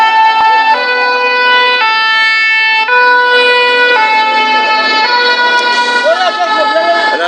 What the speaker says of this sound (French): les manifestants qui laissent passer les pompiers comme à chaque fois